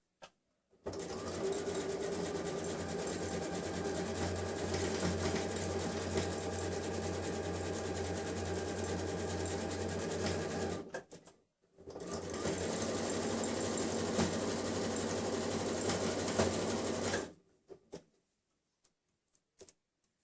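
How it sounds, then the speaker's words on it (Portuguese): A sewing machine runs in two long continuous bursts, stitching stretched elastic onto a dress, with a steady fast mechanical whir and a short pause between the bursts. "estica o elástico desta forma e costura até chegar aqui"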